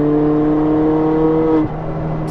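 A big-turbo Ford Fiesta engine holds a steady, close, moderately loud tone around 4,500 rpm, then dips abruptly in pitch near the end as though a shift or lift-off.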